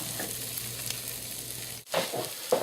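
Onions sizzle over lowered heat in a pan for French onion soup, a soft steady frying hiss with a few stirring scrapes and a brief dip near the end.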